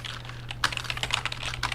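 Rapid keystrokes on a computer keyboard during a live stream, a steady close clatter of clicks over a low electrical hum.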